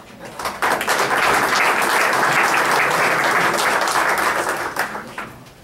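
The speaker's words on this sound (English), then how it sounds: "Big round of applause for them." A crowd of listeners claps steadily after being thanked for teamwork, a dense, loud wash of applause that swells in quickly and holds for several seconds before tapering off near the end.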